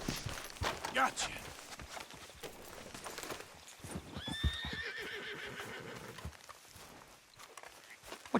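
Horses whinny and hooves clip-clop in Red Dead Redemption 2 during a horse-theft heist, a clear neigh rising mid-clip over steady footfalls, with voices talking through much of it.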